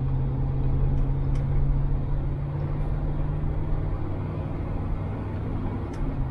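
A 1970 Buick Skylark with an automatic gearbox pulls away and accelerates through its gears, a steady low engine drone heard from inside the car, loud and continuous.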